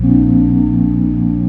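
A steady, smooth synth keys tone from a pure sine oscillator in Serum 2 holds without change, clean and loud, with a pure sine-like character.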